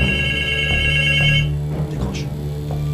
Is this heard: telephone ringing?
yes